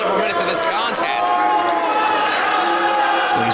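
A wrestling crowd in Chicago reacts to a match, a dense, steady roar of shouting and chatter filling the arena, loud and continuous for a few seconds with no single voice standing out.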